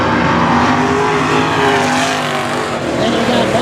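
Race cars roar past in a 10-lap main event at a short-track race, their engines loud and continuous with a droning, wavering pitch and a touch of tire noise.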